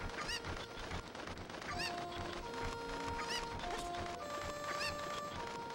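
Cuccos clucking in Ocarina of Time on the N64, repeated bird squawks and honk-like calls over steady game music with crashes and hoofbeat-like clatter mixed in.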